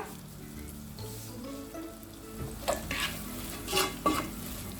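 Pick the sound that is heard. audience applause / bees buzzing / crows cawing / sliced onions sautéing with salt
sliced onions sautéing with salt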